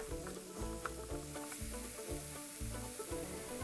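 Onion and garlic sizzle in a pan on the way to a lentil soup, a steady close frying hiss with a low rhythmic pulse running under it and no voices.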